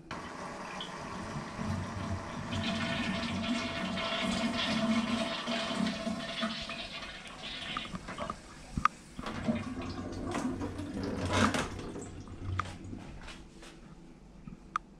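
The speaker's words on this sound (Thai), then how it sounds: "ลักษณะชักโครกของญี่ปุ่นนะครับส่วนอันนี้ก็ใช้กดธรรมดาเหมือนกัน" A Japanese-style hotel toilet flushes with a loud rush of water that swells and then tapers off, with some drips and clinks, close by and without speech.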